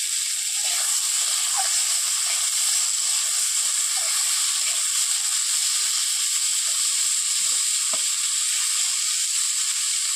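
Chopped tomatoes fry with onion and green chilli in hot oil for a Mourola fish teljhal, a steady close sizzle running throughout with faint stirring clicks and no talking.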